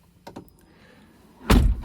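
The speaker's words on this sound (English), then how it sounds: "Close your passenger door." A Tesla Model X passenger door, a powered falcon-wing door, closes with a few light clicks followed by a firm, close thunk as it seals shut.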